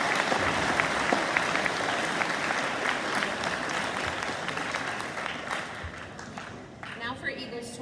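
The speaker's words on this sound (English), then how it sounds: "Let's give them a round of applause." At a high school awards ceremony, an audience claps for honored students in sustained, dense applause that gradually thins and fades toward the end.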